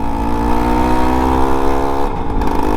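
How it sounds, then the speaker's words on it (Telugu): A Suzuki Max 100 dirt bike engine pulls steadily in third gear, its clutch in need of adjustment, giving a loud, continuous droning hum close by that dips slightly near the end. "బండి బాగానే లాగుతుంది థర్డ్ గేర్లో కూడా"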